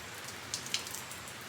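Steady rain falls outside a house, a soft continuous patter with a few sharper drips, faint and even throughout.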